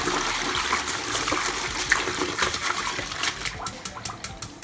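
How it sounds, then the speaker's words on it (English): Running water splashes and trickles steadily as a toilet brush is rinsed under a flowing tap, with quick scrubbing swishes and light taps in the final seconds. "make sure to rinse the toilet brush off in flowing water"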